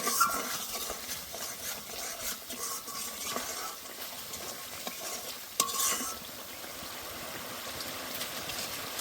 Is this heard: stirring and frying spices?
yes